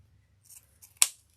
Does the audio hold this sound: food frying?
no